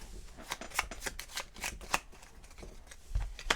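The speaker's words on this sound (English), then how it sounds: "I only have 1 I have to shuffle." A deck of cards for the Legacy of Yu board game is shuffled by hand, producing a steady run of crisp riffling flicks close by, with no one talking.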